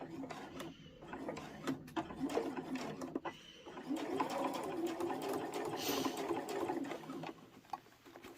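A sewing machine stitches all the way around a fabric tray at a 2.4 stitch length, its quiet steady whirring mechanism running continuously with brief pauses, close but soft.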